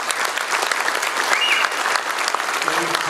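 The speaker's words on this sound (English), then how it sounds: "let's give David and Tanya Sutherland another big round of applause." Audience at a banquet breaks into sustained applause, a dense, steady wash of clapping filling the room without pause.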